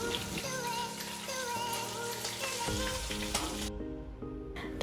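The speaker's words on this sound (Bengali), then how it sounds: "মাছটা খুব ভালোভাবে ভাজা হয়ে গেছে। তো আমি আর এক পিঠটা উল্টে দেব।" Pabda fish frying in oil produces a steady, close sizzle with crackles and spatter, accompanied by background music and no talk.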